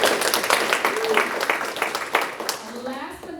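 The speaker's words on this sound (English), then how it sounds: "an applause for our friend." Short burst of audience clapping at a Latinos in Media panel event as a guest is introduced, mixed with chatter and voices over the applause.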